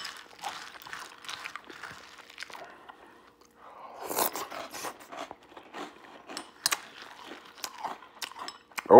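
Chocolate cereal in milk being bitten and chewed close up, with irregular crisp crunches and soft wet chewing in bursts, quieter at first and louder in the second half.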